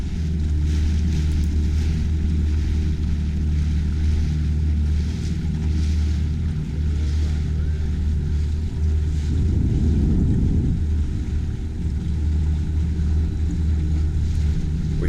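Steady low engine drone of a fishing motorboat cruising on open water in Australia, with wind buffeting and water rush throughout, loud and close.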